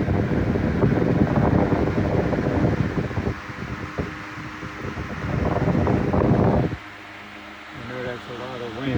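A 16-inch Emerson electric fan, Type 73648, runs at medium speed with a strong, steady whoosh of moving air and wind buffeting the microphone. Its noise drops suddenly near the end, and a voice speaks over it.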